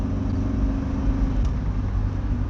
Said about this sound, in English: Here comes a 911.